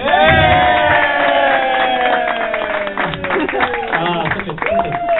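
Comedy club audience at a stand-up comedy debut breaks into applause and cheering, a dense, loud crowd roar that holds steady, then thins toward the end.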